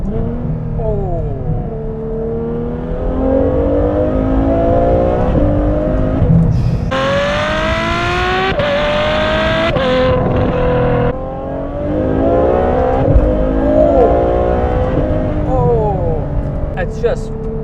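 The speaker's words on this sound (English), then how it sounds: "a naturally aspirated V12 at that, which is quite a rarity these days, unfortunately. People miss that noise." Ferrari F12 with a naturally aspirated V12 and Armytrix exhaust accelerating hard, a loud rising engine wail climbing through gears with brief shift dips, close and continuous under occasional talk.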